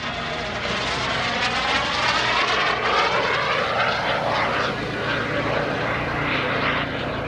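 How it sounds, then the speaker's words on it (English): A mini jet airplane at an airshow roars steadily overhead, loud and continuous with a whooshing, slightly wavering tone as it passes. "they take the wings off the airplane, they put it in a trailer"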